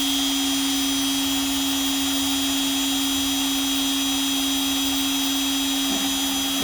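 A CNC machine mills a guitar neck, a steady loud whine with a constant high tone over broadband cutting noise, running unbroken throughout with no talk.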